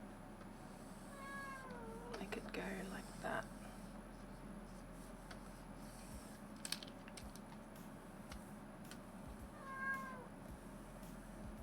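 A pet cat meows a few times in the background during a drawing session, with a cluster of cries near the start and another toward the end, while a person talks quietly amid faint pencil scratching.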